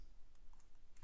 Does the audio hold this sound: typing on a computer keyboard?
yes